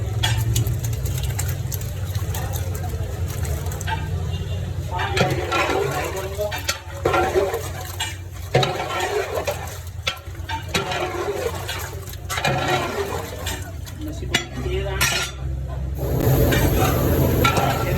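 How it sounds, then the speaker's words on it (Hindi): Chicken frying in a pot for biryani, with continuous loud sizzling and bubbling, broken by repeated scraping and stirring bursts up close. "मैं मुर्गी ऐड करूँगा इसके अंदर।"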